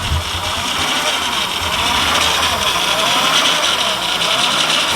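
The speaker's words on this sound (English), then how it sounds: "And the revving is from a power steering sensor that I have to replace." A van engine revs unevenly, held high by a faulty power steering sensor, giving a steady loud roar close by for the whole stretch with no talk over it.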